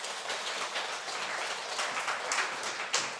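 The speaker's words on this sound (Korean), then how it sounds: "우리 박수 한번 쳐주세요." A church congregation claps together at a Sunday service, a dense, even burst of applause filling the hall for a few seconds with no voices over it.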